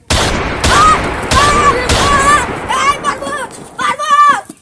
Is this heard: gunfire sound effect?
yes